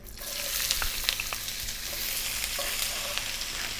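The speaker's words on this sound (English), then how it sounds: "what we're going to do is we're going to drop in our onion" Onion dropped into hot coconut oil for an Indian buffalo meat curry: the pan erupts into a dense, close sizzle with scattered crackles and pops that continues steadily to the end.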